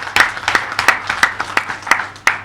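An audience applauds with sharp, evenly spaced claps in unison, about three per second. The claps are loud and near, over a low background hum.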